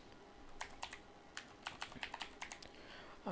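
Keystrokes on a computer keyboard, a quick irregular run of light clicks heard up close and clearly, with no talking over them.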